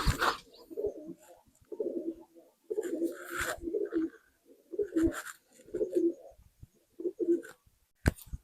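Pigeons coo in a steady series of soft, low, throaty calls, one after another at an even pace, with a brief sharp knock near the end.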